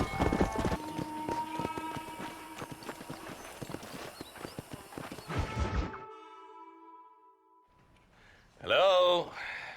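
A horse galloping in the Western video game Red Dead Redemption, with rapid clip-clop hoofbeats and clattering impacts for several seconds that suddenly cut out. A brief whinny follows after a short quiet gap.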